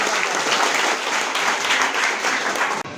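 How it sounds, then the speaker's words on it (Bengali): An audience of school students applauds a correct answer at a quiz event, giving dense, sustained clapping at close range that holds steady and then cuts off abruptly near the end. "আমরা একটা হাততালি দিতে পারি।"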